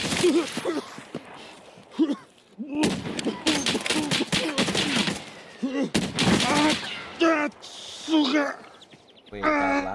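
Gunshots ring out in a first-person shooter game, several sharp bursts in quick succession mixed with a player's voice talking over them, loud and close.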